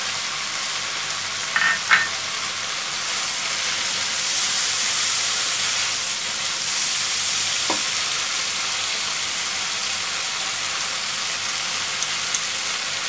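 Okra and large-cut onion pieces frying in a pan, a steady loud sizzle and hiss that runs throughout, with a couple of brief stirring scrapes near the start.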